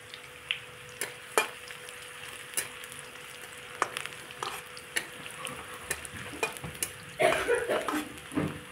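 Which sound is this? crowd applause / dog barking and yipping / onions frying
onions frying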